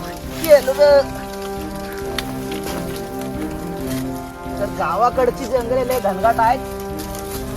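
Steady rain patters in the background while someone talks over it, with music-like tones faintly underneath.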